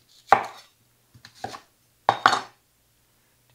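A knife cuts through an onion on a board, giving four or five sharp, close chops spaced irregularly with silence between them, and no voices.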